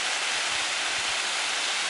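A waterfall pours into a pool in the Shangri-La Arch area of Carter Caves, Kentucky. A dense, steady, even rush of water fills the short stretch, close and loud with no pauses.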